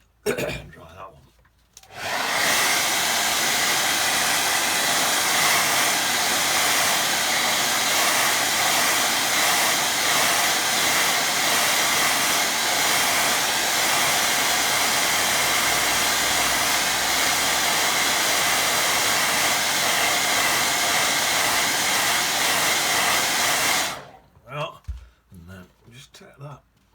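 A hair dryer drones loudly and steadily for over twenty seconds, close up while it dries a watercolour landscape painting, starting and stopping abruptly, with brief quiet handling sounds before and after.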